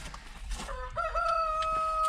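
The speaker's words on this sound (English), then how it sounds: "that one was probably a rooster" A rooster crows once on a cold morning near chickens, a clear, close, drawn-out call that rises and holds over faint background noise.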